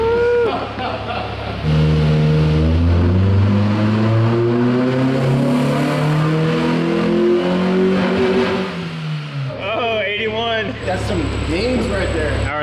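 Stock Honda Civic EG engine on a dyno during a baseline pull, revving loud and rising steadily in pitch for several seconds before dropping off, followed by quieter idle with a voice reacting briefly.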